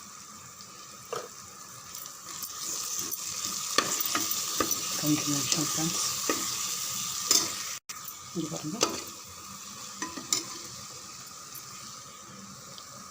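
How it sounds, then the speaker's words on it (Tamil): Tomato rice masala with garam masala powder sautéing in a pan, a steady close sizzle with repeated scraping stir strokes of a spoon against the metal, while a voice speaks briefly over it. "நல்லா ஒரு 3 நிமிஷம் வதங்கட்டும்"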